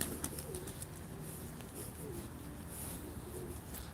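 Pigeons, including an old antique-breed game bird, coo softly and repeatedly in coops at a live pigeon auction, with faint chirps over a low, steady background.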